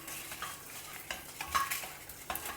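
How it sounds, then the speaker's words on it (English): Dry red chillies and peanuts roasting in a pan are stirred, giving faint, irregular scrapes and light rattles from a utensil against the pan, quiet and close. "Lightly roast that also along with the peanuts."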